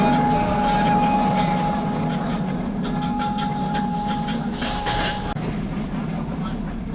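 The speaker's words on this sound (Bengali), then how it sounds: "প্রচন্ড গতিতে কিন্তু ট্রেন এগিয়ে যাচ্ছে" A local train from Ishwardi to Dhaka runs fast along the track, a steady loud rumble with a sustained tone and faint rhythmic clatter, heard from inside the carriage.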